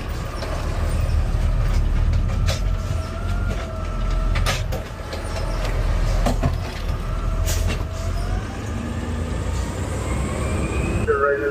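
A Los Angeles sanitation trash truck rumbles loudly at close range while its hydraulic arm grips and lifts a bin, with clanks and whining mechanical strain over the engine and occasional voices.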